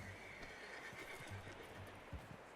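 A horse in a video game gives a sustained whinny over a steady bed of ambient game noise, with soft hoof clops underneath.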